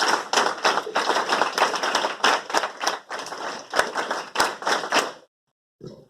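A hall audience at a felicitation ceremony during a science lecture event claps hard and fast in a dense burst of sharp claps. The clapping stops abruptly, and a brief faint sound follows after a pause.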